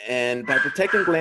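A dog barks and yips with a whimpering edge, close and loud, with a sustained yelp first and then sharp barks overlapping a man's ongoing speech.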